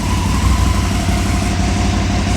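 Aprilia motorcycle engine running on a stand at slightly raised throttle during fuel tuning, a steady close mechanical hum with even low pulsing and no speech.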